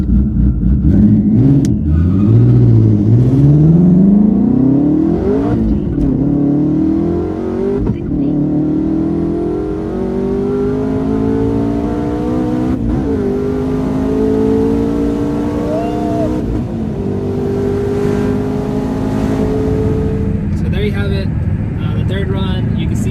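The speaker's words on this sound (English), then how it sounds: "Shifts into 5th gear, it does this kind of like a surging type of deal. That's the boost cutting in and out." A twin turbo Ford Mustang GT350 accelerates hard on a half-mile run, engine pitch rising through gear changes, then surging unevenly in fifth gear as the boost cuts in and out, loud and close, with people talking over it.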